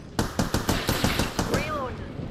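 Rapid gunfire rattles through an Apex Legends firefight, a string of sharp, loud automatic shots in quick succession followed by a short whine and fading tail.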